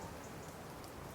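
Steady rain falls during an autumn wild camp under a bivvy in Derbyshire, a soft, even hiss of drops with no breaks, faint and continuous and without voices.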